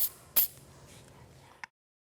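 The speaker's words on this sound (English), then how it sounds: "And spray the area." A quick burst of aerosol spray paint onto a trailer tongue jack, one loud short hiss near the start followed by a faint lingering hiss and a small click at the end.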